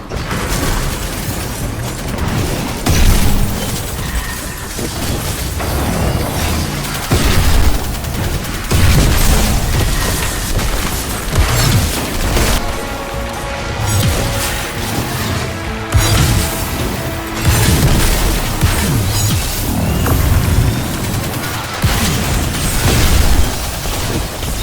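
The Valkyrie weapon firing in the video game Destiny 2 gives repeated loud bursts, booms and rapid gunfire-like blasts, dense and continuous across a long stretch of game action, with no voices.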